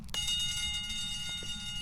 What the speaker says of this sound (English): Can I pull this fire alarm?